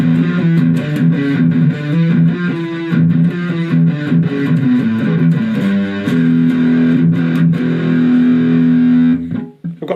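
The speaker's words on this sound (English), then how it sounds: "And then as we go up, we get more and more gain." An electric guitar played through a Vox practice amp, with the gain turned progressively higher, produces a steady run of distorted chords and notes that grows grittier. The playing is loud and continuous, with no voice.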